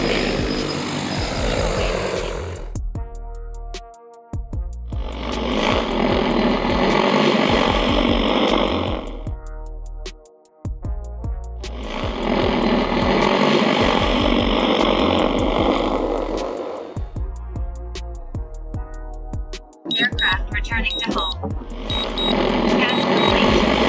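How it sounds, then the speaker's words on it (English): A DJI Agras T50 agricultural spray drone lifts off and flies a spraying route, its loud broadband rotor roar rising and falling in long bursts, with brief quieter gaps and a steady motor hum between passes. "Now let's start and take off"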